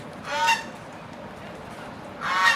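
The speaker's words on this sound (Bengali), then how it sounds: "দেখেন হাঁসটা, এইটা হলো আমাদের মদ্দা হাঁস।" A drake, a male domestic duck kept in a village yard, gives two loud, close honking calls about two seconds apart, with a quiet outdoor hush between them.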